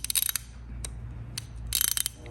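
A Plomb 1/2 inch drive ratchet gives two quick runs of sharp, close clicking, one at the start and one near the end, with a few scattered single clicks between them.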